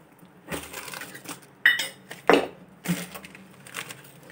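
A metal pan is set down and clinks against a stovetop while ghee is readied for tempering a dal khichdi, giving a few sharp close knocks and rattles with quiet gaps between them.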